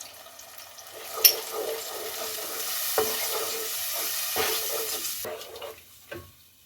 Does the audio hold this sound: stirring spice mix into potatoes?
yes